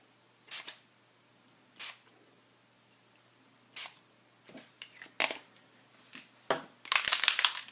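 Shimmer spray bottles in Citron and blush shades being shaken, heard as a few separate short rattles spaced apart, then a denser burst of rapid rattling at the end.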